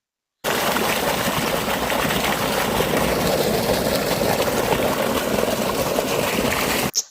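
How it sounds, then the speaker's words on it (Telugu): Water rushing in a village stream, a loud, continuous broadband roar that cuts in abruptly and holds steady with a low rumble underneath, no talking. "ఒకసారి మీరు ఆ వాటర్ సౌండ్ వినండి."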